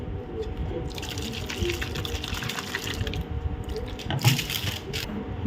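Saline water sloshing inside a capped nasal rinse bottle as it is shaken, a steady liquid churn running several seconds with a sharper knock near the end, close and fairly loud with no voices.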